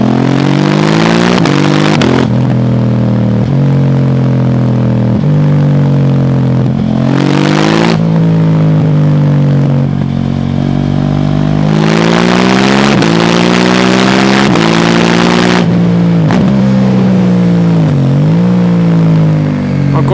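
A KTM 790 Duke motorcycle engine pulls hard while riding, revving up and down through gears with rising and falling pitch, loud and close, alone with no voices throughout.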